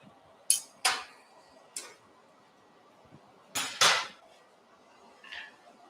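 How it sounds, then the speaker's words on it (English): A planishing hammer strikes metal in a workshop with several sharp, ringing blows spaced irregularly, two quick pairs and single hits, near and clear against a quiet background. "I'm going to go ahead and planish that with this hammer real quick"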